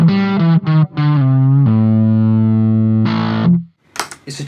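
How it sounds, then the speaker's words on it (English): Electric guitar on the bridge pickup through a germanium Fuzz Face clone pedal: loud fuzzy notes, a few quick picked phrases leading into a long sustained held note, then a short closing note and scratchy string noise. "It's a germanium fuzz face clone."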